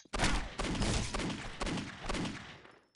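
Rapid gunfire from the PC shooter Postal 2, a loud close burst of several shots fired in quick succession with a short break midway, no talk over it.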